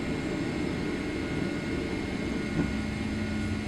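A simulated airliner takes off in Microsoft Flight Simulator, giving a steady broad engine roar that holds even and unbroken throughout, with no talking.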